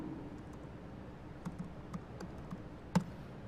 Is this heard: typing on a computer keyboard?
yes